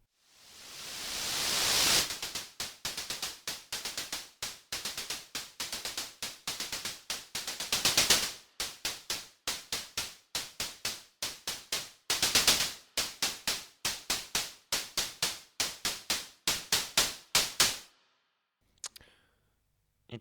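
Noise channel of a Pokemon game sound chip plays bursts of white noise in a snare-like rhythmic pattern, sharp crackling hits repeating steadily and loudly, with occasional longer hissing swells, alone without talk.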